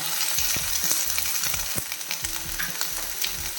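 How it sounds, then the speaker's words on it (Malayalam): Tomatoes sauté in a pan for chow chow, giving a steady close sizzle broken by soft stirring scrapes and taps, with no voices. "എല്ലാം കൂടെ നല്ല രീതിയിൽ വഴറ്റി വെക്കാം"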